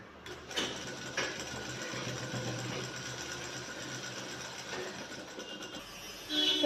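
Sewing machine running a long steady stitch on a shirt pocket, a continuous close mechanical whir that holds for several seconds and rises slightly at the end.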